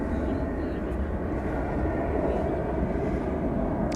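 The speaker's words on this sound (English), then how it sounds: "So we've got some other planes taking off ahead of this one." Planes take off at DFW airport, a distant, steady jet roar that holds constant and fairly faint throughout, with no clear voices over it.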